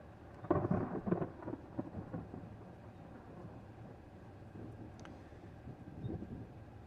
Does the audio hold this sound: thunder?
yes